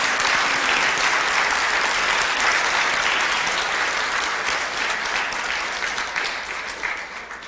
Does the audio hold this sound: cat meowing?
no